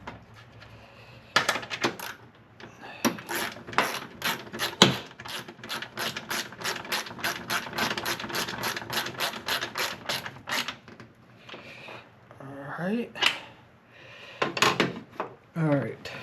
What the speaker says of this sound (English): then you thread in the ball stud for the strut. It tightens up with a 13.